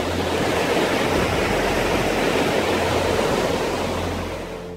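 The Río de las Lágrimas rushes through an Andes valley with a loud, constant roar of turbulent water that stays steady throughout.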